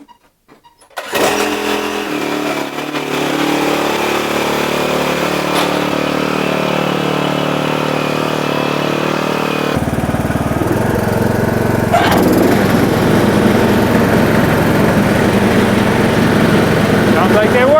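A John Deere D110 riding lawn mower engine starts after a brief silence and runs steadily with the blades engaged, a loud close droning whir that shifts to a harsher tone partway through, with a voice talking over it.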